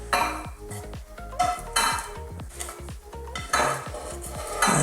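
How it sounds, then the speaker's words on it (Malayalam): A metal ladle scrapes and knocks against a pan as scrambled egg masala is scooped out into a bowl, giving a string of sharp clinks and scrapes with brief pauses between them and no talking. "നമുക്കിനി ഇതൊരു ബൗളിലേക്ക് മാറ്റാം."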